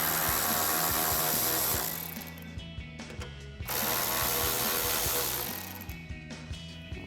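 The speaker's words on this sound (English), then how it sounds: "remove our 3 mounting screws holding our headlight in place using our 10mm socket on our ratchet" A ratchet with a 10mm socket removes headlight mounting screws on a 2014-2021 Toyota Tundra, loud rapid clicking in two long bursts with a brief pause between them and softer clicks at the end.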